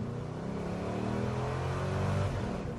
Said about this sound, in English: It's got great sounding pipes on it.